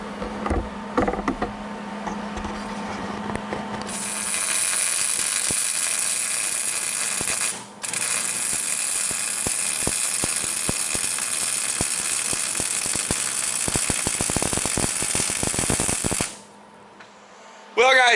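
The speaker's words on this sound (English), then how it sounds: "A little grinding work." An angle grinder works steadily on welds on a tractor mower, a loud, continuous high whine that runs for over ten seconds with a brief dip, preceded and followed by clanking and tapping.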